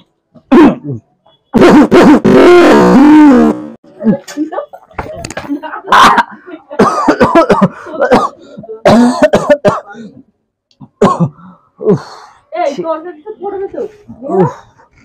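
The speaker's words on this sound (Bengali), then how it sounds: "সকাল দিয়ে কত কাশি হচ্ছে" A man coughs hard in a rough, close burst, clears his throat, then coughs and hacks more between stretches of conversation with others nearby.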